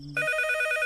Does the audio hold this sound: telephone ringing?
yes